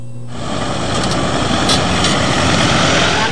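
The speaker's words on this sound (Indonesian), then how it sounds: "Itu pesawat." An airplane's engine swells in after a brief quiet start, building into a loud, steady propeller roar that holds close by with no talking.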